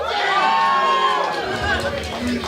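Cheers and shouted voices rise from a mixed wrestling crowd for Lance Hoyt, a brief busy swell of yelling and chatter filling the venue.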